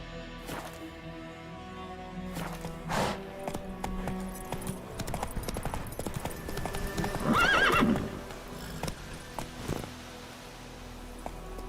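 Roach, a horse in The Witcher 3 video game, clip-clops along in a steady galloping hoof rhythm, with a whinny partway through and some scattered knocks and game sounds around it.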